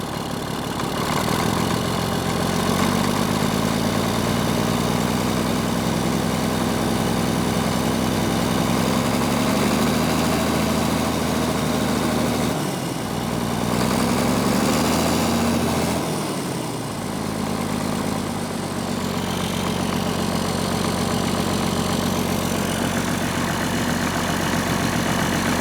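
The diesel engine of a Caterpillar D6C bulldozer, freshly rebuilt with a new head and turbo, idles with a deep, steady rumble close by, briefly dipping and surging around the middle before settling back to an even idle.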